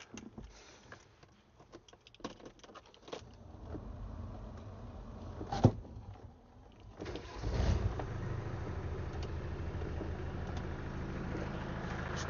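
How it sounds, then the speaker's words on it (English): Scattered clicks and rustling give way to a Land Rover Defender 90 engine starting up, then a steady, rough diesel idle rumbling close by. "Start the engine up."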